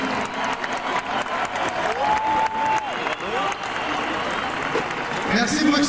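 A concert crowd applauds at the 1993 Europe in Concert show in Brussels, with massed clapping and scattered cheers from a large outdoor audience, while a voice speaks over it.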